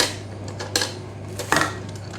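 A new kitchen vegetable slicer for plantain and potato chips is handled up close, giving a few sharp clanks and knocks against a quiet background hum, with no speech.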